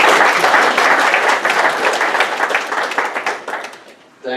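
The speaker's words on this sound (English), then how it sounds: "So Michael, please give him a round of applause" Audience applauding at a Summer Creek Bizcom business event, a dense sustained burst of clapping from a crowd that fades slightly before a sharp final surge at the end.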